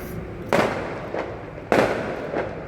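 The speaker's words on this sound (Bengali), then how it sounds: "এই যে দেখো ফায়ার ক্র্যাকার্স জ্বলছে, মানে দিওয়ালির ভাইবস এখনও চলছে" Firecrackers and fireworks going off during Diwali celebrations: two sharp bursts about a second apart, each followed by a softer echoing pop, over a steady background hum.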